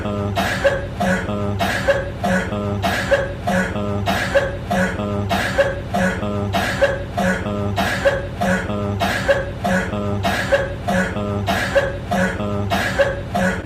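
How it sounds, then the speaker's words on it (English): Many people coughing one after another in a steady, continuous string of short, rough bursts filling a busy room. "Do you hear everybody coughing?"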